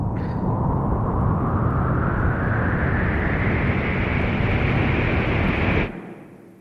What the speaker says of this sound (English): There go the motors.